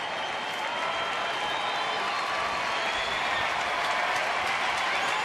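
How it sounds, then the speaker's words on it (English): A baseball stadium crowd at a Boston at Texas game cheers and applauds steadily throughout, a dense, loud roar of clapping and voices with no pauses, urging the pitcher toward a strikeout. "Crowd trying to help Alexi maybe strike out the side here and limit the damage."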